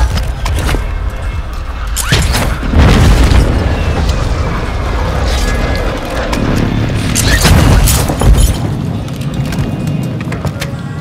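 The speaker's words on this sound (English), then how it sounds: "Hostile airstrike near your location" Heavy booming blasts from a hostile airstrike in Warzone 2.0 on Al Mazrah roll through, with loud rumbling impacts around two to three seconds and again near seven to eight seconds over constant low battlefield noise.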